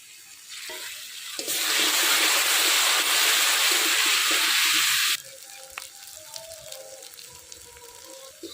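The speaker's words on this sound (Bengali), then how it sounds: "লঙ্কা ভাজা হয়ে গেছে" Chili paste hits hot oil in a pan beside fried potatoes and erupts into a loud, steady sizzle for several seconds, then drops to a quieter crackle with faint clinks.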